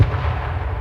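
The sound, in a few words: grenade exploding in H1Z1 video game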